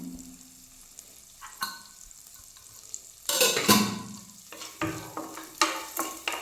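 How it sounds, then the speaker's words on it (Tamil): Crushed garlic cloves frying and being stirred in a pan, with quiet sizzling, scraping stirs, and a louder burst of sizzle midway followed by several sharp clinks and spatters. "இதெல்லாம் நல்லா ஃப்ரை ஆகட்டும்"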